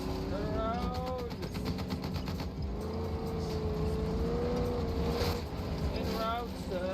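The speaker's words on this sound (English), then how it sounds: "He's shooting at me." Rapid gunfire in a multiplayer shooter video game, a fast burst of shots over a steady engine-like drone, with people talking over it.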